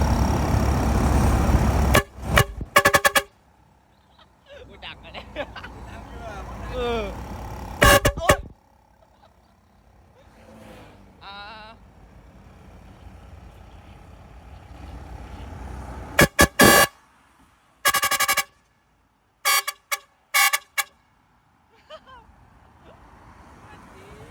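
Loud blasts from a custom motorcycle horn ring out in several bursts, some long and some short and choppy, close by over a low background with moving traffic.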